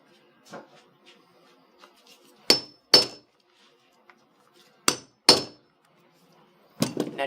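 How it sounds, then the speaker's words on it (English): A metal hammer strikes an old metal rivet domer in separate sharp clanks, two pairs of close, ringing hits and then a final burst, with quiet gaps between. "you just used a metal hammer and a metal tool"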